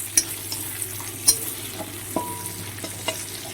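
Soft, steady sizzling of green chillies and spices frying in oil in a pan, with a few sharp pops and crackles spread across the clip and no talking.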